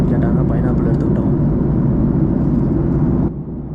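Airplane cabin noise as a flight descends through turbulence, a continuous loud low roar and whir of engines and airflow that drops slightly in level near the end.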